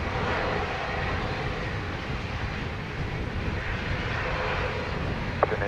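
A plane comes in to land at Sangster airport in Montego Bay, Jamaica, heard as a steady, broad engine roar that holds at an even loudness throughout, with one brief sharp tick near the end.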